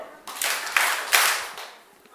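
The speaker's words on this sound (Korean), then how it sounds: "박수 4번" A church audience at a Bible lecture in Korea claps in unison as a group exercise, giving a few distinct bursts of clapping about half a second apart that fade into quiet.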